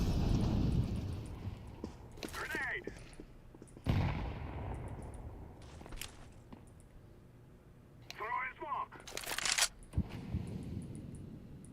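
A grenade detonating in a first-person shooter game, with deep booming blasts and scattered gunfire-like cracks amid voices of players talking over the action.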